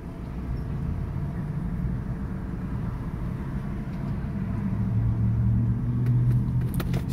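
Car engine idling with no throttle input during a test of four Power Acoustik Vertigo VA1-10000D amplifiers, a steady low rumble that holds constant, close and moderately loud, with no voices.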